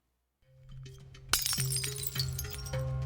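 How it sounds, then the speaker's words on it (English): In a video game alley, light bulbs burst one after another with sharp cracks and glass shatters and tinkles down onto pavement, rising out of silence over a low hum. "sound of light bulbs exploding and raining glass down on the pavement"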